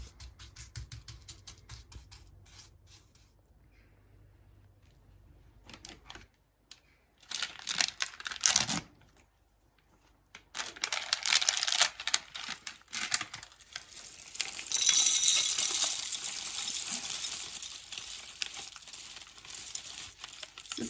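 Antep pistachios are cracked open by hand one at a time, giving dry crinkly clicks and rustles in bursts with short quiet gaps, close and fairly soft.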